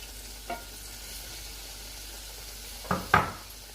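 Karela gosht, bitter gourd and meat, sizzles in a pan as coriander goes in, with a faint background hiss broken by a soft tap and then two louder scraping stirs near the end.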